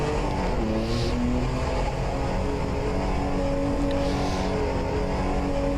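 A Group C sports car engine roars steadily in a racing video game at Virginia International Raceway, a continuous loud drone with sustained engine tones and no pauses or speech.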